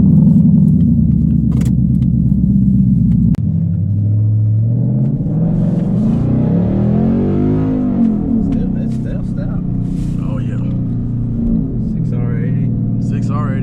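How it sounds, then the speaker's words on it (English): A stock S550 Mustang GT engine rumbles steadily from inside the cabin, rising as it accelerates, while people talk over the drone. "We're about to go for a ride and show him what it feels like to be in a stock car"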